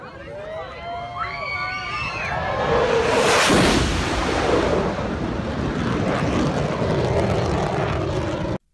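A plane flies low overhead above a car: a loud, broadband jet roar swells to a peak near the middle and stays heavy to the end, with voices underneath.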